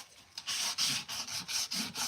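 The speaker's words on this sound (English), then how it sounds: "I'm just gonna give this a sanding." Rhythmic sanding strokes rasp back and forth across a piece of furniture, a steady series of close, scratchy rubs with brief pauses between passes.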